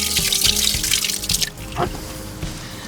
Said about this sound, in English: I have a few watering cans over here to clean them.